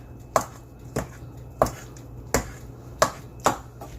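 A knife cutting a ripe avocado, six sharp, separate chopping taps at an uneven pace against a board, close and clear with no talking.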